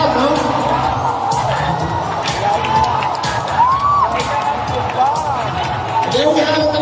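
A crowd at the Miss Iligan 2023 beauty pageant cheers and shouts steadily in a large venue, with whoops rising over the din and a voice talking through it.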